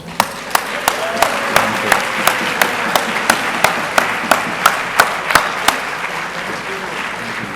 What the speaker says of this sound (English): How about a final applause?